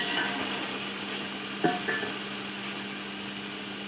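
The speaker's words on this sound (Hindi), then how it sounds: "तो इसमें चमचा हिलाते रहे ताकि नीचे लग न जाए।" A ladle stirs namkeen pulao frying over a high flame in a village-style kitchen, with a steady low sizzle and hiss and a couple of brief metallic clinks against the pot partway through.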